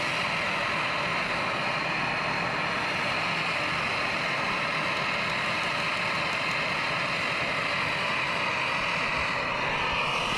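A loud, steady roaring hiss like a gas burner on full, constant throughout with no breaks or talk.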